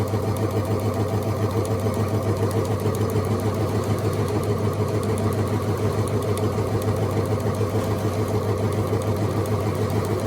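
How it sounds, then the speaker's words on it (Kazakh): A sewing machine stitches fabric in a rapid, even mechanical chatter that runs steadily and close for the whole stretch, with no voices heard. "Қараңыздар, қалай тігіп беріп жатыр."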